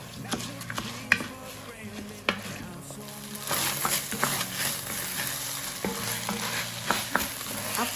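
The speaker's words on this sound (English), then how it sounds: "So I just threw in the rice and continue to stir fry for some" Rice tossed with a green sauce in a hot pan, with steady sizzling and frying and repeated scraping stir strokes. Soft music or tones play underneath throughout, and there is no talking.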